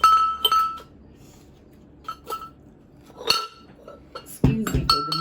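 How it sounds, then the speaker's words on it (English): A big glass jar clinks and knocks as it is handled, with several sharp, separate taps and chinks spread over a few seconds and a louder rattle near the end, close by in a quiet room. "Excuse me for the noise. So anyway, that's my big glass jar."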